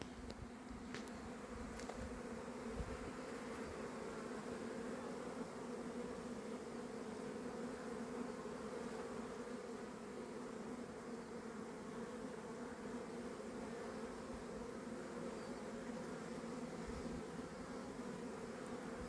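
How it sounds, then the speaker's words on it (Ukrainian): Honey bees swarm in steady, dense buzzing at an apiary hive in spring, a continuous close drone holding evenly throughout with no voices. "бджола не так активно залетає, але майже кожна друга, третя, всі йдуть з полком"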